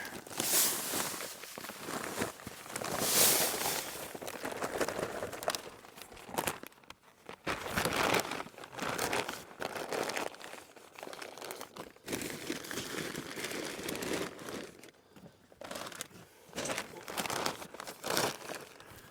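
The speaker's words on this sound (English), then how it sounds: "I'm over here crinkling up bags." Plastic seed bags being crinkled and crumpled while filling a seed drill with millet on a farm, loud close-up rustling in irregular bursts with brief pauses, footsteps shuffling between handling.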